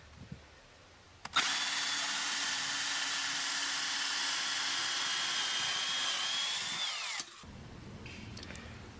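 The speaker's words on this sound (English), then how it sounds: "we're just putting a pilot hole from the inside to the outside here" A power drill bores a pilot hole at a slight downward angle through a garage wall from inside to outside, one steady high whine of about six seconds starting and stopping abruptly, close and loud.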